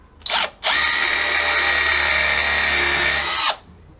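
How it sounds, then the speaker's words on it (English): Power drill countersinking into wood: a brief spin-up, a short pause, then a loud, close, steady whirring bore of about three seconds before the motor stops. "first job, quick countersink."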